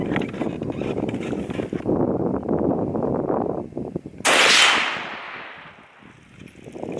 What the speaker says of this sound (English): Now let's hit it with our medium weight, medium velocity bullet, the Hornady 150 grain FMJ